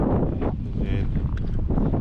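Strong wind buffeting the microphone beside a river, a steady low roar that fills the whole clip with gusty swells, with faint voices underneath.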